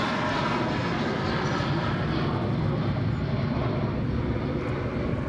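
Airliner jet engines roar steadily at Sydney Airport, a broad, continuous, fairly distant rumble with no talk over it.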